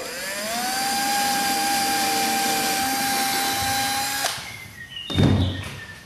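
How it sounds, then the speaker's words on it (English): A power drill with a 5/64-inch bit whines at a steady high pitch for about four seconds, pre-drilling a screw hole for a beehive observation window, then stops, followed by a few short clunks and a brief rumble. "We're going to pre-drill, same 5 64 inch bit."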